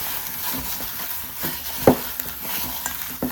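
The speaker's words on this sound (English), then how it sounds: "what I'm going to do is just mix it together until it gets good and mixed" Half ground beef and half ground pork being mixed together in a bowl for Swedish meatballs, giving soft, wet squelching and stirring sounds with occasional sharper squishes, close and moderately loud.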